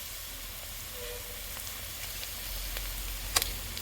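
Ginger garlic paste sizzles steadily in hot oil in a pan while cooking a brinjal and moong dal curry, with a soft continuous crackle and a few small pops.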